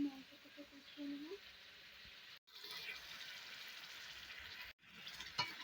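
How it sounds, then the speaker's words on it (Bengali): Meat sizzles as it is stirred and fried down in a pan for a home-cooked curry, a faint continuous frying hiss with a brief break or two, under someone speaking. "তো মাংসটাকে এখানে কষানো হচ্ছে।"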